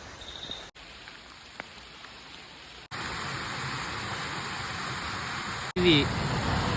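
A roaring waterfall beside a forest road, heard as a steady broadband rush that swells louder partway through and continues unbroken, with a brief chirp near the end.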